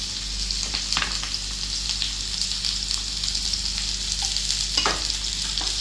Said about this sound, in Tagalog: Yung mantika, ilagyan na natin yung sibuyas.